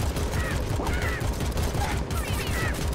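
Enemy fire in the PC game AK-xolotl: a dense, continuous barrage of rapid shots fills the scene at steady loudness, with faint game chirps and sound effects mixed in.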